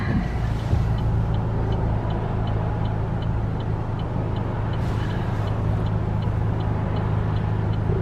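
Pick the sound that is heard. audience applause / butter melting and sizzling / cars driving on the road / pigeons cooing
cars driving on the road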